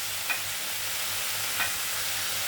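Flat beans fry in a pan with a steady, even sizzle and hiss throughout, and two faint stirring scrapes come through at a close distance.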